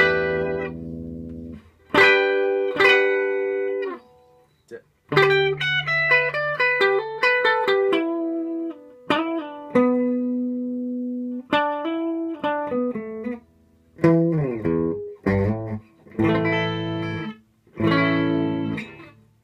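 Electric guitar played through a Quilter Tone Block 45 amp with the gain raised to a moderate crunch, alternating ringing chords and single-note lines with short pauses between phrases, close and clear with no talking.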